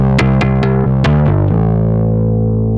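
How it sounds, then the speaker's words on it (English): An electric guitar played through a distortion pedal, stacked on overdrive: several quick picked notes, then a chord left ringing and fading, loud and close. "This is my overdrive, all right? So check this out. I've got a distortion pedal."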